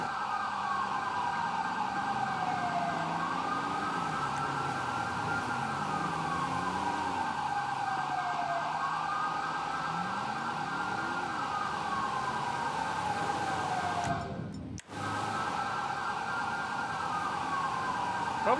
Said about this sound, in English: All the sirens.